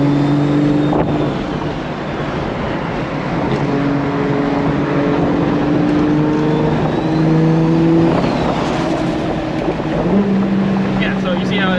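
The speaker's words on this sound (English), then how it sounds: "maybe I can do like a downshift bump" A BMW E30 with a swapped 2JZ engine and 8HP70 automatic gearbox drones steadily from inside the cabin, its engine note stepping up in pitch several times as the gearbox drops a gear.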